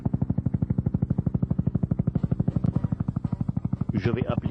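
Helicopter in a video game, a steady rapid rotor chop pulsing evenly throughout, loud and close, with brief bursts of higher game noise near the end.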